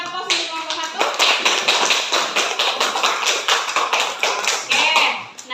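Classroom applause for a student group, a burst of many hands clapping in a room, close and lively for several seconds, with a voice speaking over the start.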